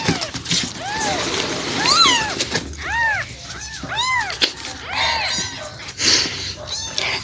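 Several house cats, a pregnant cat and a mother with her kittens, meow repeatedly at feeding time, short rising and falling cries overlapping one another at close range.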